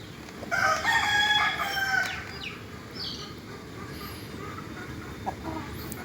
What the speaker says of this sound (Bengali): টাইগার মোরগগুলো কত সুন্দর